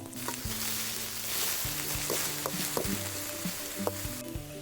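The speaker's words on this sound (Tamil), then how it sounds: "சேர்த்துட்டு எல்லாத்தையும் நல்லா மிக்ஸ் பண்ணி விடுங்க. நல்லா வதக்கணும்." Green chillies and curry leaves sizzle in oil in a pan, with soft frying crackle under light stirring scrapes and occasional clinks, close and steady for a few seconds.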